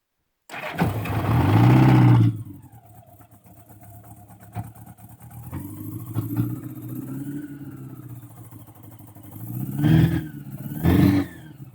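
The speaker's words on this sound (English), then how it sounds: "A little twist of the throttle, and it should start right up for us." A 1980 Honda GL1100 Goldwing motorcycle engine cranks loudly for about two seconds, then settles into a steady, close idle before two short throttle blips swell near the end.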